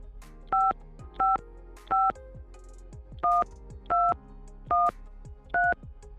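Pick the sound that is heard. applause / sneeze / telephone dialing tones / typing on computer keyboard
telephone dialing tones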